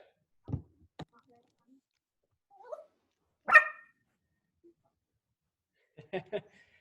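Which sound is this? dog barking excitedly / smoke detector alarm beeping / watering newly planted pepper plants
dog barking excitedly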